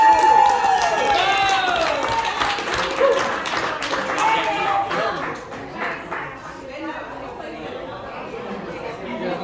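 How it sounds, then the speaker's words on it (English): A live audience at a comedy and music fundraiser claps and cheers. The applause is fairly loud and mixed with crowd chatter and a voice speaking over it, then tapers off over several seconds. "Give another round of applause for yourself for sticking around, guys"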